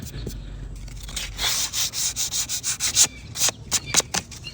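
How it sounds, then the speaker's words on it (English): A chip on a wooden rocking chair is sanded out by hand, with about a dozen rapid rhythmic rubbing strokes, close and fairly loud, after a brief low rumble at the start. "so I'm just sanding it out"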